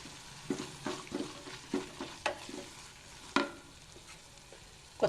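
Pulao masala with mint leaves fries in a pan for a black-eyed pea pulao, soft sizzling under repeated spoon stirs and scrapes, several sharper clacks standing out.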